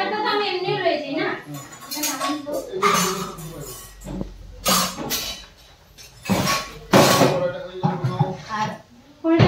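Metal utensils, bowls and dishes clatter and clink as they are gathered up and packed into a sack during a room move, with repeated bursts of rattling mixed in with people talking.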